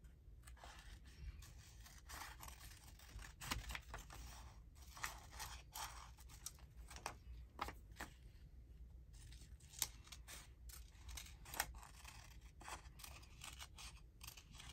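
Quiet, close scissors snipping through paper in a steady series of short crisp cuts, with faint rustling between snips.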